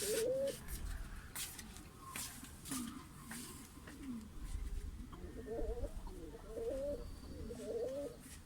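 Urfa-bloodline pigeons coo in soft, repeated throaty calls, some closer than others, over a low background murmur.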